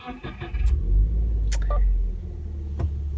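A 2018 Subaru WRX STI fitted with transmission and shifter upgrades cranks and fires up, a loud close rumble that swells and settles into a steady idle, with a voice speaking over it.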